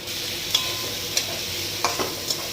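Fried potatoes stirred into a spice paste of cumin, green chilli and ginger: a continuous bright sizzle, punctuated by four or five light spoon taps and scrapes against the pan.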